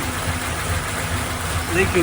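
A freshly installed engine in a 1996 Chevrolet Impala SS idles steadily with a low, even rumble, and someone talks over it close by.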